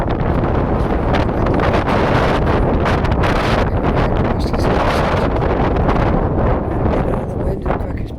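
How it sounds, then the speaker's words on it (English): Strong southeast wind buffets the microphone in loud, continuous gusts while walking downtown, a roaring rumble that barely lets up throughout. "it's really very, very windy day out here"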